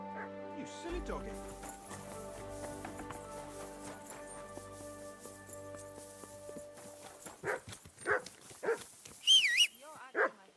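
Dog barking in the video game Kingdom Come: Deliverance 2, a string of loud, sharp barks near the end, coming after medieval-style music and speech.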